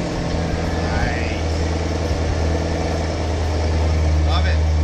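A Corvette Z06 fitted with a Corsa exhaust runs at a steady idle, low droning engine rumble close by, continuous for several seconds under faint background noise.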